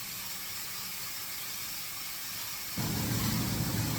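A kitchen exhaust fan runs at high speed beside a high-heat stovetop, giving a steady airy hiss that grows louder and fuller near the end.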